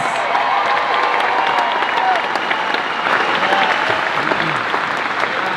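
A room full of people bursts into loud, sustained applause at a speaking event, dense clapping that stays steady and close throughout with a little cheering mixed in.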